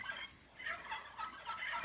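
Turkeys gobble in a rapid, warbling burst, repeated several times in quick succession, moderately close and with no talk over it.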